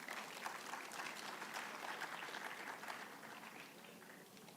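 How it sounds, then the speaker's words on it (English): At a university youth consultation event, an audience gives a faint, distant round of applause for a woman invited on stage, steady at first and then gradually fading. "Round of applause for ma'am"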